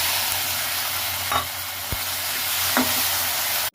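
Elephant apple pieces sizzling in hot oil with mustard seeds, dried red chilli and turmeric, a steady close hiss broken by a few faint stirring clicks and scrapes, no talking.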